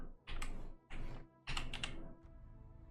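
Typing on a computer keyboard to search the Warships premium store, three short bursts of clacking keystrokes, close and fairly quiet, with no voices.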